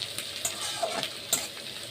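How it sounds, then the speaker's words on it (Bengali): Onions frying in a pan until browned, a close continuous sizzle with a few soft stirring taps. "এবার আমার পেঁয়াজটা লাল করে ভাজা হয়ে গেছে।"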